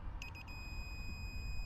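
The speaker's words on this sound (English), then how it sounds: "the beeping is just giving you an indication that you're at the right Newton meters" Torque wrench set to a Newton-meter value beeping as it reaches torque: a quick burst of several short high electronic beeps at the start, then a steady tone over a low rumbling workshop background.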